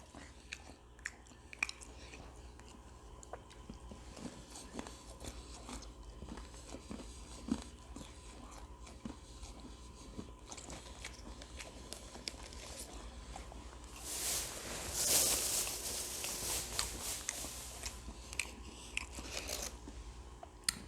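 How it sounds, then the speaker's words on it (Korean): Fried chicken neck being bitten and chewed close up, with steady wet crunching and sharp bone-cracking bites throughout, swelling into a louder burst of crunches partway through. "닭목은 그냥 다 씹어먹는 거야 다 씹어버리겠어"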